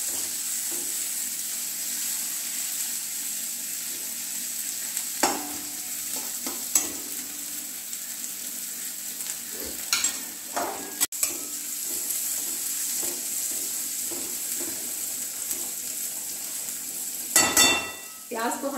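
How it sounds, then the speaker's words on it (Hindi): Finely chopped onion and ginger fry in a pan, a steady low sizzle with occasional scraping stirs and sharp clinks of a spoon against metal spread across the stretch, with no talking. "अब हम इसको थोड़ी देर ऐसे प्याज को 2 से 3 मिनट हम थोड़ा सा भूनेंगे"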